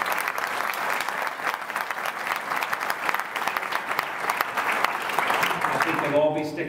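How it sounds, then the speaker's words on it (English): A large crowd applauds steadily at a leadership event, dense clapping filling the room for several seconds before tapering at the end. "let's give them another round of applause"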